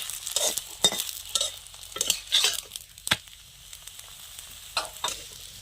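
Aloo paratha fries in a pan with bursts of sizzling and spatula scrapes at irregular intervals, close up and moderately loud, with no voices.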